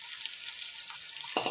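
Chopped onions frying in a pan for egg biryani, giving a steady, even sizzle throughout, with a brief stir or clatter of utensils near the end.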